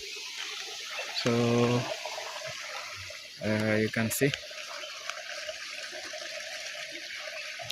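River water flows steadily in Kisii as a soft, continuous wash under a person talking in short bursts.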